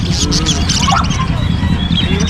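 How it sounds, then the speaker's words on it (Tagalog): Many caged birds for sale at a Bocaue, Bulacan animal market chirp and squawk together in a dense, busy chorus, close and loud under people talking. "Ito po, oh, dami niyang ibon."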